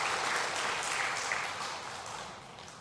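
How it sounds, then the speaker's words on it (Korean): A church congregation at a Lunar New Year worship service claps together in a warm, dense round of applause that holds steady and then slowly fades over a few seconds. "우리 옆 사람 향해서 박수 한번 칩시다"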